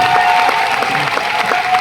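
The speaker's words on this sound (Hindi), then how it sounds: "सचिंदर डाबरा जी के लिए जोरदार तालियां" Audience applause fills a hall at a company celebration event in Delhi: dense, steady clapping from a large crowd, loud and close, continuing without a break.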